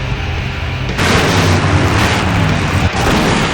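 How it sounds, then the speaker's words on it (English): A big explosion bursts in the video game Full Throttle, a loud, sudden roar that jumps up after a rumbling lead-in and keeps on as a dense, rolling blast with a brief dip near the end. "Now that's an explosion"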